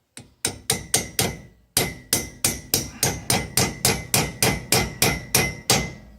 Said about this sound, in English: now I have a tool that I can help align and drive that bushing back in